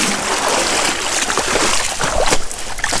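Rushing water from a deep, fast stream being waded through at night, a steady loud broadband wash with splashes close by.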